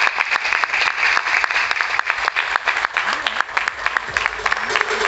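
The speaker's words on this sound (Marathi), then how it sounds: "जोरदार टाळ्या" Loud, steady applause from an audience at the Sakhi Gaurav award ceremony in Ravindra Natya Mandir, many hands clapping densely and continuously throughout, with faint crowd voices mixed in.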